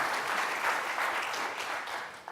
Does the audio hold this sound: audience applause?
yes